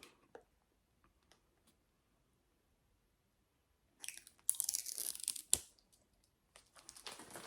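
A Danessa Myricks and MyKitCo brush set package is opened by hand: a few small clicks, then quiet, followed by bursts of crinkling, tearing plastic wrap and a sharp snap, close to the microphone.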